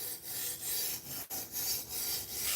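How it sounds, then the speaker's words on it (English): A knife blade is rubbed back and forth lightly to deburr it, giving a rhythmic, rasping stroke repeated at a steady pace, close and quiet, with no talking. "you could deburr this by rubbing it back and forth."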